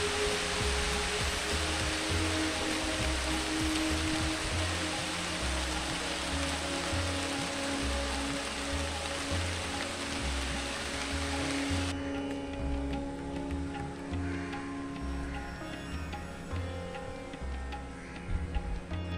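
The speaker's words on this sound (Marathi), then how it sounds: "झाडांवर पडणाऱ्या पावसाच्या त्या थेंबांचा आवाज मी ऐकत बसलो." Rain falling on trees near a well by a temple complex, a dense, steady hiss of drops that holds unbroken throughout, with no voices.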